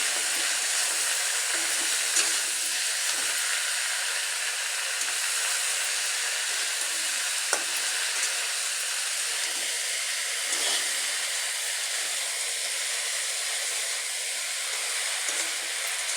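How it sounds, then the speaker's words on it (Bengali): Malabar spinach is stirred into a hilsa fish head curry, giving a loud, constant frying hiss and sizzle close by with a few faint scrapes of a spoon. "এবার আমি এর মধ্যে কেটে রাখা পুঁই শাকগুলো দিয়ে দেব এগুলো খুব ভালোভাবে নেড়ে ছেড়ে দেবো"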